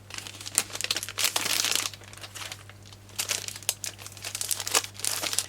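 Crinkly plastic packaging being pulled off and crumpled around a Traveler's Company passport-size notebook, close and fairly loud, in irregular bursts of crackling rustle with short pauses between handlings.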